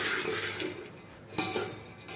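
Spoon stirring puffed sorghum (dhani) with oil and turmeric in a pan, a soft continuous scraping rustle with a couple of louder scrapes against the metal.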